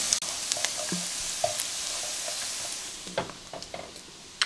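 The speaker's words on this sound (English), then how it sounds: "So we're gonna brown the gnocchi in some melted butter." Carnivore gnocchi browning in melted butter in a pan give a close, steady sizzle with scattered sharp pops and crackles throughout, and no voices.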